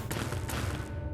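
A security turret fires in the video game Fallout New Vegas, Old World Blues, a brief loud burst of rapid gunfire lasting about a second.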